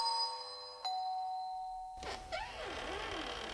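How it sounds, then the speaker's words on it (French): A front doorbell rings out a clear two-tone chime, the bright first tone followed by a lower second ding that rings and decays, used as a sound effect in a French audio drama thriller. "la sonnette de l'entrée l'extirpa de sa léthargie"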